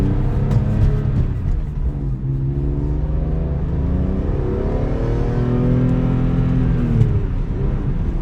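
BMW E46 M3 engine pulling hard in sport mode from inside the car, a loud continuous rising growl with climbing harmonics that sweeps up through the revs and eases slightly near the end.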